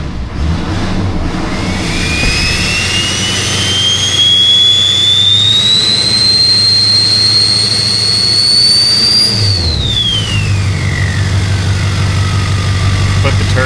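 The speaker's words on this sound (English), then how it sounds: "the turbo does sound absolutely wonderful. Love the turbine sound" A turbocharged engine, restarted after an electrical fix on an emissions-deleted vehicle, idles loudly while a bright turbine whistle climbs steadily in pitch, holds, then falls away as the engine settles back to a low rumble.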